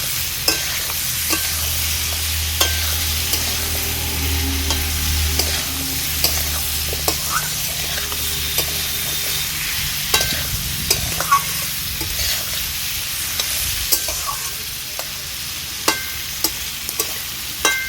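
Pumpkin and potato pieces stirred in a frying pan for a vegetarian dish with salt, turmeric, sugar and green chilli, a steady sizzle under repeated scraping and clacking of a spatula, close and alone.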